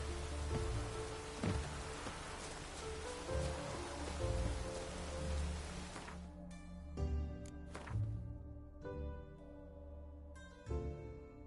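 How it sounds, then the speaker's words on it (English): Steady rain falls in The Witcher 3 video game. A broad, even hiss carries low rumbling tones for about six seconds, then thins to scattered drips and patters over a continuing low hum. "Even the rain smells different here."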